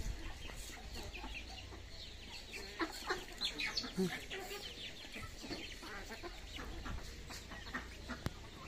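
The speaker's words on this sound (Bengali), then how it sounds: "আর মুরগিগুলোকে এখন খেতে দিলাম" Free-range desi chickens cluck in a village yard while being fed in Meghalaya. The soft, scattered clucks come under a faint, steady background hiss, with a few louder clucks bunched near the middle.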